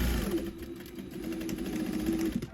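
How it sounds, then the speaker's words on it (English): A sewing machine stitches a gathered skirt, its motor whirring in a continuous close, steady buzz with a faint rapid needle rhythm throughout. "I'm just going to sew this all the way around"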